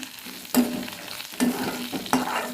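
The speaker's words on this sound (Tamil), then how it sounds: "சும்மா கொஞ்சமாக அதே இதோட சேர்த்து வதக்கி விட்டுருவோம் இது நல்லா எல்லாமே நல்லா வதங்கி வரட்டும்" Gooseberry chutney ingredients with coriander leaves sautéing in a pan, a steady close sizzle marked by three scraping stirs of a spoon.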